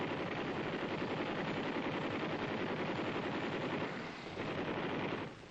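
A 7.62 machine gun system, the Army XM6 kit, fires in long, sustained bursts, a dense, loud, continuous rattle of rapid shots with a brief dip near the end.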